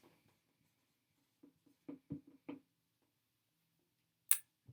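Pen writing on paper, several short faint scratchy strokes in a quiet room, spaced in small clusters.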